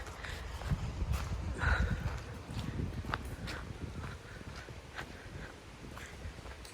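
Horse hooves clip-clop steadily on a road as the horse is hacked out alone toward a quarry, a fairly close, even walking rhythm with some rustling and wind around it.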